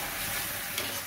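Spice masala for a mixed whole-lentil dal tadka cooking in a pan on low to medium flame, a dense, continuous hiss of sizzling with one faint scrape, close and steady throughout.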